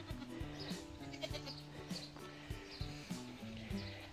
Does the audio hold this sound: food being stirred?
no